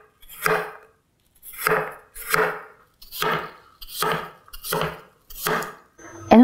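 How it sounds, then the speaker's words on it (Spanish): Apples are chopped into small pieces with a knife on a cutting board, seven crisp, evenly spaced thuds close up, with a short clatter right at the end. "Y ahora cortamos las manzanas en trocitos no muy grandes."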